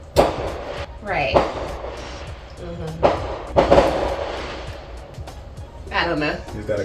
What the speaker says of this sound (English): Please hold for fireworks.